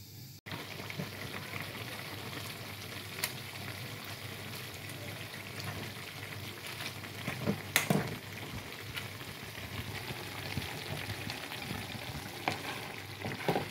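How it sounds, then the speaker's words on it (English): Bolognese sauce simmers in a pan with a steady, close bubbling sizzle that runs throughout, broken by a few sharper pops and stirs. "And then I'm just gonna make this simmer now."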